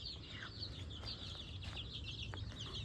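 Backyard chickens and chicks cluck and peep faintly, with soft high chirps and low clucks scattered over a quiet steady background and no talking.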